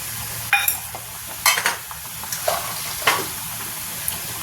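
Ginger, green chilli and tomato drop into hot oil in a pan, making a faint sizzle under a few sharp clattering stirs and spoon knocks spaced over a few seconds, close and without voices.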